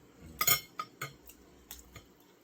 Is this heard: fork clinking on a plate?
yes